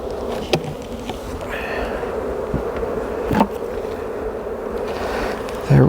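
Honey bees swarm and buzz around a beehive as boxes are swapped, a steady dense drone close by with a few brief knocks and taps, no talking.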